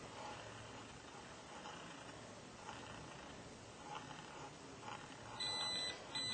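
A vehicle tachograph's overspeed alarm gives faint, repeated beeps that are partly buried under a steady engine and road hiss.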